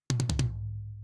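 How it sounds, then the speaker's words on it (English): Processed Drumforge library toms hit four times in quick succession, punchy with sharp attacks, then a ringing low tail fading out; close and alone. "The Drumforge ones by themselves sound like this"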